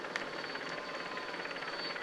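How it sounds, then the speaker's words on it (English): A television helicopter hovers overhead during a Tour de France stage, giving a steady, fairly loud rotor drone with a faint rhythmic chop throughout and no voices. "Not too spooked by our television helicopters."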